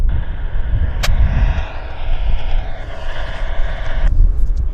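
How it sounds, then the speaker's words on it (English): A WestJet Boeing 737-800 in Disney livery on final approach at Vancouver airport, heard as a steady broad jet engine roar that holds throughout, fairly loud, with a brief sharp click near the start, and no talk. "This is the WestJet Disney Flight 107, 737-800."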